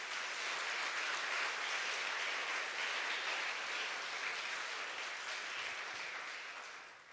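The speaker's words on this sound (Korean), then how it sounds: "우리 아버님들 위해서 박수 한번 쳐주시죠" A church congregation applauds in honour of the fathers present, a dense, sustained wash of clapping that holds steady and then begins to fade at the end.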